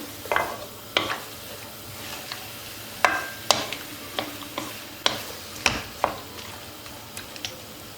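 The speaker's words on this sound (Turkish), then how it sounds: "Şöyle bir kavuracağım." Meat sautéing and being stirred in a sac pan (a shallow griddle-like pan), with a steady close sizzle broken by repeated sharp scrapes and clacks of stirring at irregular intervals.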